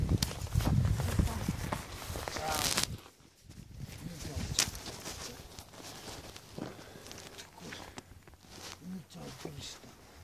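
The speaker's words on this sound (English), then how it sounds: "I'm gonna go on my horse" Hooves of a horse walk in Terelj National Park, a series of irregular clops and footfalls, louder and busier at first, then fainter and sparser, mixed with voices talking nearby.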